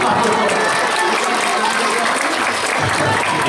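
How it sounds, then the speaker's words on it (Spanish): A crowd claps loudly and steadily for a Gendarmería police dog squad's demonstration, a dense, continuous wash of applause lasting throughout with scattered voices mixed in. "Un aplauso."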